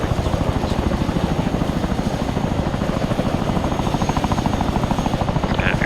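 A helicopter spooling down in Arma 3, its rotor throbbing in a fast, steady rhythmic beat with a continuous engine drone, close and loud, with no talk.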